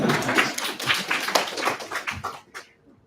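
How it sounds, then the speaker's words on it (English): A small audience at a career talk on job searching and networking claps briefly: a few loose, uneven hand claps close by that quickly thin out and stop, leaving quiet. "Yeah, you can clap for him."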